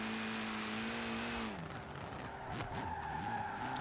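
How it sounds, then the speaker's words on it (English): A car drifting in the video game Forza Horizon 4 holds a steady engine drone, then breaks into a tire squeal and skid with revving that carries on loudly to the end. "I'm doing drifting."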